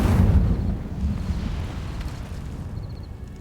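The Incendio fire spell in Hogwarts Legacy bursts out with a loud whooshing flare at the start, then a crackling rumble that fades away over a few seconds.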